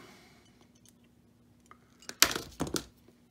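Lead came for a leaded glass solar lantern is cut with a snipping tool, producing a quick cluster of sharp metallic snips and clinks near the end after a quiet stretch.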